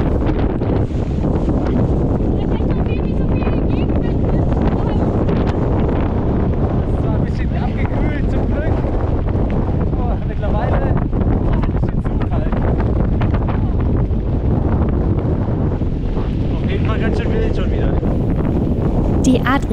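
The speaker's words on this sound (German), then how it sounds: "Der Wind wurde so stark, dass man kaum geradeaus fahren konnte." Strong Bora wind on the Adriatic coast while bikepacking along the Velebit Channel roars as a loud, constant buffeting rush against the microphone for the whole span.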